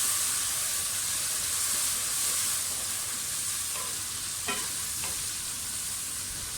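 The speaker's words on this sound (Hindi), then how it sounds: "टमाटरों को 2 मिनट हो गए भूनते हुए।" Tomatoes fry in a pan for moong dal tadka, giving a steady, close hiss of sizzling. A few brief scraping clicks of a spoon stirring them stand out near the end, and no one speaks.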